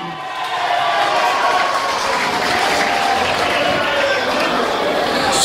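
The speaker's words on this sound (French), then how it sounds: "Nous applaudissons, nous les parlons, nous disons Gaëtan, merci." A congress audience marking the 88th anniversary of Sir Gaëtan Duval breaks into applause that swells within the first half-second and then holds as a dense, steady roar of clapping with crowd murmur mixed in.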